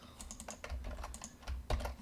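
Quiet keystrokes tap out on a computer keyboard while scripting in the Leadwerks 5 game engine, a brisk, uneven run of light clicks with no voices.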